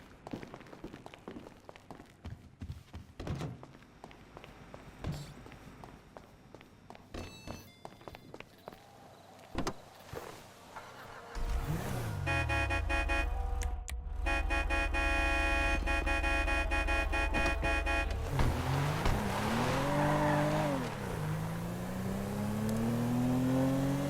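In Grand Theft Auto V, footsteps tap along before a car engine starts and drives with a steady loud hum, then revs upward as it accelerates, with brief speech nearby.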